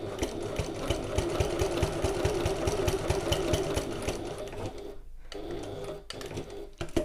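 A sewing machine top stitches fabric for a satchel at a 1/8 inch seam allowance, its needle chattering rapidly and steadily up close. The motor stops abruptly near the end, then restarts in short bursts.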